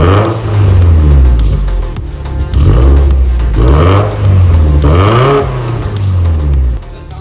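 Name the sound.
Subaru STI EJ20X engine revving at first start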